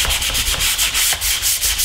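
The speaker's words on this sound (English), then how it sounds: "So I'll give the frame a quick sanding," A wooden frame is sanded by hand with 220 grit sandpaper, brisk rhythmic back-and-forth strokes repeating about every quarter second, close and clear with no talking.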